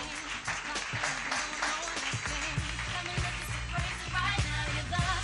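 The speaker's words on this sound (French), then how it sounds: "Les photographes, sous vos applaudissements, vont venir." An audience applauding photographers being called to the front at a ceremony, steady mixed clapping that continues throughout with a low murmur of the crowd and some background sound underneath.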